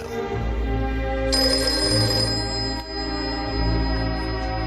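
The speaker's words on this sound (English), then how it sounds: "It was a Sunday morning, and I was woken up by my mobile." A mobile phone plays an old-fashioned bell ringtone, a loud, continuous metallic trill of jangling bells that fills the whole stretch without pause.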